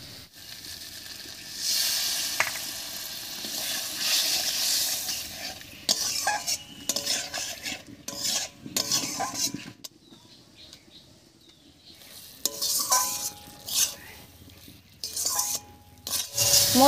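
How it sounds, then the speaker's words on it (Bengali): Potatoes are sautéed with spice paste and a splash of water in a pan, with repeated scraping stirs and a soft sizzle throughout, a brief quieter lull midway, then brisk stirring resumes close by. "এবার একটু মশলা বাটা জল দিয়ে ভালো করে কষিয়ে নেব।"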